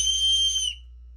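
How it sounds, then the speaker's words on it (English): A carved jade whistle is blown once, giving a loud, clear, high-pitched tone lasting under a second, then cutting off into quiet. "We have a nice loud whistle."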